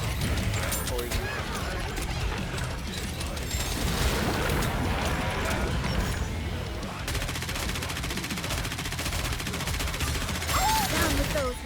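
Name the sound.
gunfire from the video game NIKKE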